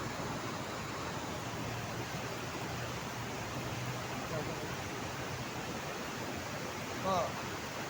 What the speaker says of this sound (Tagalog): Ito sa may ilog.